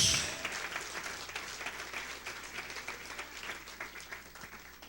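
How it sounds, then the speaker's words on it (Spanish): A church congregation claps for the Lord at an evening service, a dense, fairly faint wash of applause that thins out gradually. "Dale un aplauso grande al Señor en esta noche."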